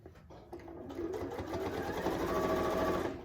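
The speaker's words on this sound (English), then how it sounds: "Stitch a couple inches, then move it." Sewing machine stitching through a quilted Christmas stocking, a steady whirring hum that starts quietly, rises within the first second and runs continuously at close range with no voices.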